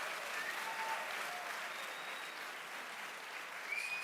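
Faint, even applause from a crowd at a college engineering welcome event, a soft continuous patter of many hands with a few thin whistles over it.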